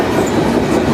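A freight train rolls steadily through wooded countryside, heard from aboard as a loud, close, continuous rumble with a faint clickety-clack of the wheels and no voices.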